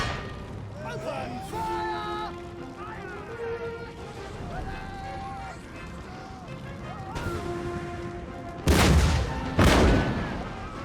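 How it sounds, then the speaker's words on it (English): Cannon fire from an Empire: Total War naval battle, with heavy booming shots standing out late in the stretch, two loud blasts close together over busy game noise and music. "Unload the cannons."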